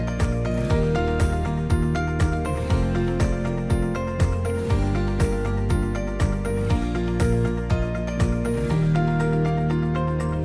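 A Janome sewing machine stitching zigzag over elastic fabric, a loud, continuous mechanical clatter with repeating ticks and whirring, close and steady throughout with no talk.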